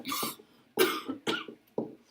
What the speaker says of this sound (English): I've been coughing this morning.